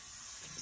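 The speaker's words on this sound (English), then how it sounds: "spray glue all over it" A short burst of spray glue hissing steadily from an aerosol can, applied as a layer over a foil relief art project, close and fairly loud throughout with no talking.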